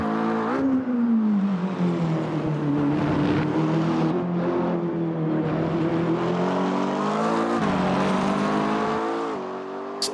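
Race car engine from the racing simulator Automobilista 2, a sustained, loud droning engine note that climbs and falls in pitch with revs and shifts, heard alone for about ten seconds.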